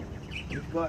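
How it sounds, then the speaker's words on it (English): Birds chirp in the background beside a campervan while a barbecue hot plate heats, with several short, fairly faint calls under a man's speech. "Can you guys hear the birds in the background?"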